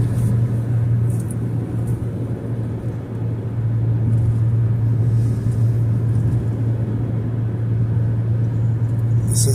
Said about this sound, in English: This is the new truck, 2020 Jeep Compass. Got that 6-speed manual.